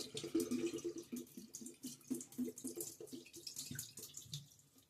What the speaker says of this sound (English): I just run it under running tap water